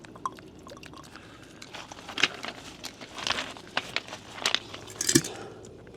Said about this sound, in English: So first thing I'm going to do is dump all the water out.